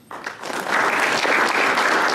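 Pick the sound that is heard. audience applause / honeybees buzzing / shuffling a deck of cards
audience applause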